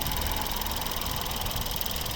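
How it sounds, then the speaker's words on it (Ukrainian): A petrol 1.6-litre engine in a 2014 Ford Tourneo Connect II with automatic transmission runs steadily at idle, heard up close under the open bonnet as an even, continuous hum with a faint ticking texture and no talk. "класно працює двигун."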